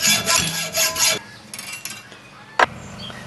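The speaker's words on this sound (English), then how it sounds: "now I'll just get the hacksaw and separate them from their parent" A hacksaw cuts through metal brackets on a washing machine, a run of quick, rasping back-and-forth strokes for about a second, then quieter scraping and a single sharp knock.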